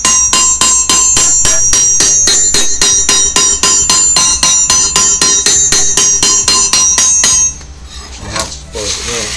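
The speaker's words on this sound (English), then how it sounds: "you can turn it this way and hammer this direction because that's the long face of the hammer there" A hammer strikes a steel crosscut saw blade to straighten it, about two dozen sharp, ringing metallic blows in a fast, even rhythm, close and loud, before stopping with some handling noise.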